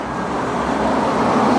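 Street traffic outside a workshop rolls past, a steady loud wash of car and heavy vehicle road noise that swells slightly toward the end.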